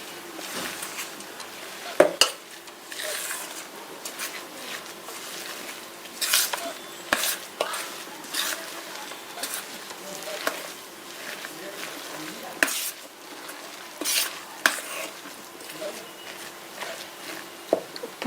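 A lobia (black-eyed pea) vada mixture being stirred and mixed, with irregular spoon scrapes, knocks and clinks against the vessel spaced through a fairly quiet stretch.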